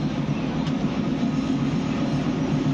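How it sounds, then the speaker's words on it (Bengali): A long train slowly entering a station makes a continuous, fairly loud rumble of wheels on rails, a steady roar with no break and no voices. "খুব ধীর গতিতে স্টেশনের দিকে ট্রেনটা ঢুকতেছে"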